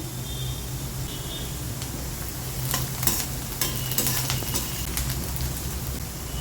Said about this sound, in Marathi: कांदा आपला थोडासा अर्धवट परतला गेला आहे त्यामध्ये आता आपल्याला मिरच्या घालून घ्यायच्या आहे